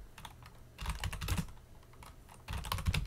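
A command is typed on a computer keyboard, a quiet, close patter of key clicks in two short bursts separated by a brief lull.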